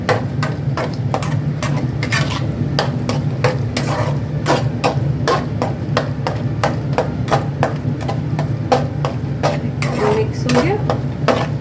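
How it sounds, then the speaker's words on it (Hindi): Spoon stirring and mixing food in a metal pot in a home kitchen while cooking a Bihari dinner, a steady run of rapid scraping clinks against the pot, close and fairly loud, continuing without pause and with no talking. "इसको मिक्स कर देंगे।"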